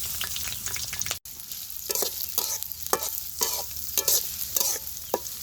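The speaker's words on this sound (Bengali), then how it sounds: "পেঁয়াজ, কাঁচামরিচ, আদা জিরা খুব ভালোভাবে ভেজে নিব।" Onion, green chili and ginger-cumin paste sizzle in hot oil with whole cumin in a kadai, loud and close, with a steady frying hiss broken by rhythmic scraping stirs about every half second.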